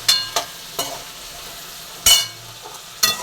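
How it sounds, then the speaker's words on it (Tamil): Vegetables sautéing in a pan for a sambar with bitter gourd stir-fry: a soft sizzle broken by several sharp, close scrapes of a spatula against the pan. "நல்லா காயெல்லாம் நல்லா வதங்கட்டும்."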